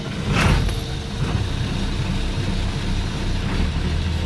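Diesel engine of a 1987 International bus, a DT360, starting cold on a chilly day, then settling into a loud, steady, rumbling low idle heard close, with no talk.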